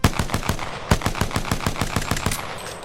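A P20 pistol in Apex Legends empties its magazine in a fast, evenly spaced string of about sixteen loud, close shots over roughly three seconds.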